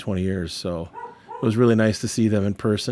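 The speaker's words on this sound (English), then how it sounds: "You'll have to excuse my dogs barking. There's people walking by upstairs." Someone talks steadily while dogs bark at people walking by upstairs, the barks muffled and blended under his speech.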